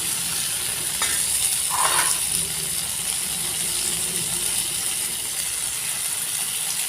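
Tomato and spice paste fries in a pan with a constant close hiss and sizzle, broken by a few scraping stirs of a utensil early on.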